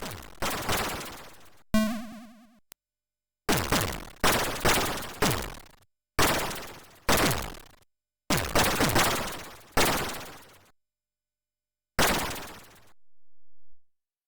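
Gunfire from the Amstrad CPC port of the arcade game Xybots sounds as harsh, noisy 8-bit blasts that repeat in short bursts, each sharp at the start and then fading, with silent gaps between them and one brief tonal beep.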